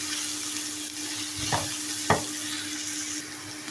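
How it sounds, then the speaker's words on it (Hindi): Garlic paste frying in a small amount of oil in a pan, a steady soft sizzle with two brief stirring scrapes, close and moderately quiet, no voices. "मैंने शामिल कर दिया है इसमें लहसुन का पेस्ट। इसको भी बस हमने इतना सा पकाना है"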